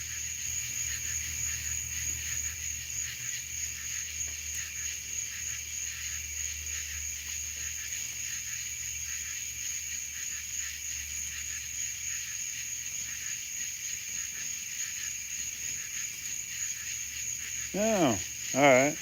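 Steady high cicada drone fills the summer night air throughout, with a low background hum, then a brief voice rises near the end.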